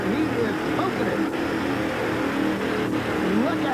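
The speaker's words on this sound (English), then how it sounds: "It's a big 455 Oldsmobile, and he is smoking it." Old 1953 Dodge military fire truck fitted with a 455 Oldsmobile engine revs hard, its rising and falling engine note loud and close amid crowd noise and an announcer talking over it.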